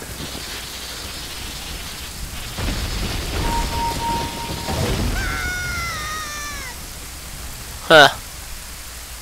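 Rain hisses steadily in The Legend of Zelda: Ocarina of Time, moderately loud under a few tonal game sounds and a sharp chime near the end. A man mutters briefly.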